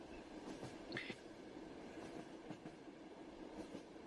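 Rumbling train carriage ambience inside a metro-style wagon in the Luminal Horror game, a steady rolling rumble with rhythmic clacks and a brief metallic squeal, no talk.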